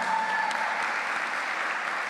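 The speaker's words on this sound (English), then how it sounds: "Give her another round of applause." Steady applause from an audience at a primary schools debating championship, a dense wash of many hands clapping at constant loudness throughout, with no voices standing out.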